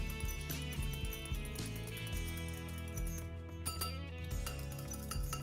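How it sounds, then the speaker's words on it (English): A whisk rattles and clinks against a bowl while mixing brown sugar, vinegar and chili sauce for meatloaf; quick, close, irregular metallic taps and scrapes continue throughout. "And we're just gonna whisk that all together"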